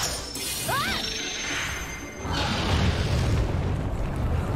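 A splitting wyvern shot attack in Monster Hunter Stories 2 lands as a loud shattering crash and booming burst, preceded by a rising whistle-like tone, then a sustained rumbling roar.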